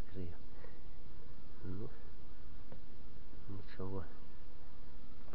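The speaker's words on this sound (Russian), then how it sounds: "Пчел много." Many bees buzz around open beehives during a honey harvest, a faint, steady swarm hum with short bursts of someone talking quietly over it.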